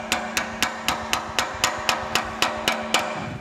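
A sacrificial wood chisel tapped with a hammer behind a motor drive part on a Monarch 10EE lathe, about a dozen sharp metallic strikes in a steady, even rhythm, close and loud with no talking.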